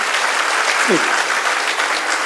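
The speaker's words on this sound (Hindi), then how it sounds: "सुनना मन से एक बार जोरदार तालियां बजाइए" Loud, dense applause from the audience at a Hindi kavi sammelan (poetry gathering) featuring a poet, sustained and even throughout with a brief voice rising faintly beneath it.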